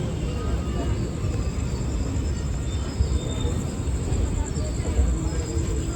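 Steady loud rumble and rattle of a train running through Bardhaman railway station at night, continuous and close, with faint background babble.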